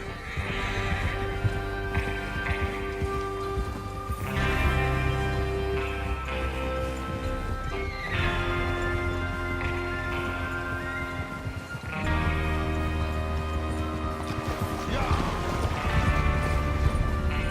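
Horses gallop in Red Dead Redemption 2, with rhythmic hoofbeats and occasional neighs and whinnies over a steady musical bed, the pounding surging in several waves.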